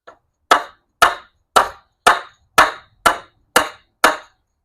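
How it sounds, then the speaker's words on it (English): Eight sharp, evenly spaced metallic strikes from hammering with the back of a knife ring out about twice per second, each a crisp knock with a short decay, close and loud with no talking. "I need to hammer these in. Let's use the back end."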